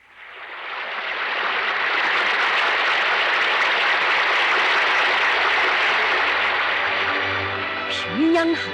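Sustained, dense applause from a large audience after a Pyongyang students' and children's art troupe performance in Japan in 1983, a steady wash of clapping throughout with a faint voice near the end.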